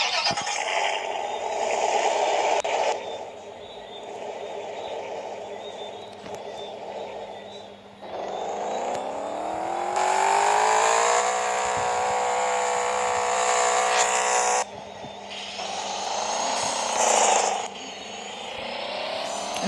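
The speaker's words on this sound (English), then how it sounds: "So I'm going to be starting up this car today." A turbocharged car in the Roblox game Vehicle Legends starts up and revs, its engine note rising and sweeping upward in several loud, sustained bursts with brief drops between them.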